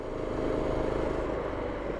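A small engine on a homemade mini bike runs steadily at a moderate throttle, a continuous close buzzing drone.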